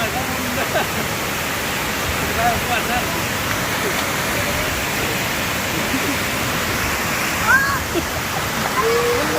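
Steady broadband roar of Tad Khu waterfall at Pak Song on the Bolaven Plateau, continuous rushing water close by filling the whole clip with an even, unbroken wash.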